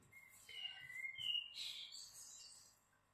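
Small birds chirp and whistle through an open window on a sunny day, faint and slightly distant, in a few short bright phrases with no talking over them.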